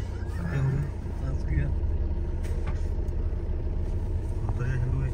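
A tractor engine rumbles low and steady nearby while people talk over it, with a few brief higher clanks and squeals around the engine note.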